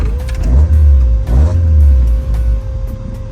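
The swapped engine of an old Toyota Corolla runs loud and close with a steady, heavy low rumble and a constant whine, swelling briefly a couple of times, with no voices.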